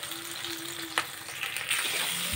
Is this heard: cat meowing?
no